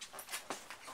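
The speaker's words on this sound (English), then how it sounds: "There she is. That's my doggy." A pet dog pants in short, breathy bursts, several quick huffs close by in a brief moment with no talking over it.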